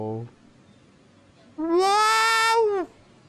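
A single drawn-out, wavering meow rises and falls for about a second, preceded by a brief voice, in a funny cat fight compilation.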